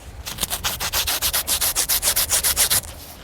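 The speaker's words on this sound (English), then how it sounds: "I'm going to basically scratch the material on the brick." MS Pro Bodyguard protective material scraped back and forth against a piece of brick, producing about fifteen rhythmic, gritty rasping strokes, close and fairly loud, with no talk.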